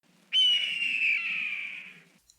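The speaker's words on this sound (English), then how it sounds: "The red tail that was recorded that you hear in all the movies." A red-tailed hawk gives a single long, harsh descending scream, loud and close, trailing off into a fainter tail with no talk over it; it is the famous hawk recording used in films, reportedly made around 1977.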